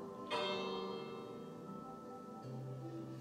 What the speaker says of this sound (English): let me bring this bell